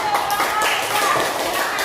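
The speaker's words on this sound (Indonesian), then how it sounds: "Tepuk tangan" A classroom of fifth-grade students claps for a student group during a maths lesson, a short burst of scattered, lively hand clapping close by, with children's voices mixed in.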